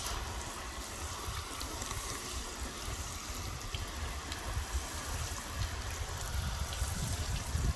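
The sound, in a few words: water spraying onto car window glass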